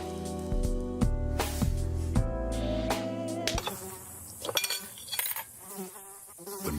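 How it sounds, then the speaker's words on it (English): Mosquitoes buzz in a pest control advert, a loud, close, wavering insect whine that rises and dips over several seconds, with sharp electronic tones and hits cutting through. "When mosquitoes show up, so do we."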